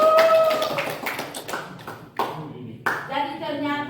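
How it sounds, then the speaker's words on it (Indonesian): A classroom group gives scattered hand claps for a student team, a few bursts of clapping that mix with chatter and voices, fairly close and moderately loud. "Berikan aplaus buat kelompok 3"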